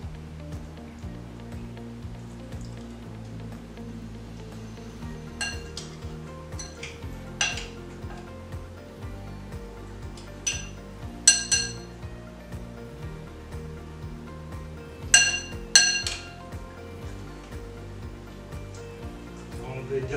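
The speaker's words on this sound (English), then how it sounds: "So I'm just gonna get spoons and mix all these together." Spoons clink and scrape against a dish while mixing salmon and broccoli, scattered metallic taps and clatters in an irregular rhythm over a quiet kitchen background with some talking.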